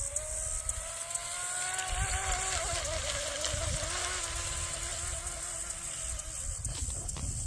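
An RC boat with a 5250kv TP Power motor runs on windy water at partial throttle, a high electric whine that rises and falls as it passes at a distance, with wind noise.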